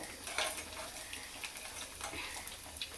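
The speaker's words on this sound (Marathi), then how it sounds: "आता आपल्या इथं शेवटचा घाणा तळणं चालू आहे" Sago chilli fritters deep-frying in oil make a quiet, steady bubbling sizzle with faint scattered crackles and light clicks.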